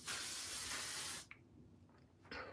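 L'Oreal 3 Seconds Setting Spray gives one steady, loud aerosol hiss for about a second, cuts off sharply, and is followed by soft rustles and a brief breathy sound near the end.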